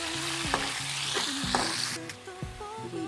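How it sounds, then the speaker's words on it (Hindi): Onions frying in hot oil with taro in a pan, with a steady close sizzle and repeated scraping stirs of a utensil throughout. "ये अरवी फ्राई कर ली है और अब इसमें डालेंगे प्याज। इसको हम गोल्डन ब्राउन करेंगे।"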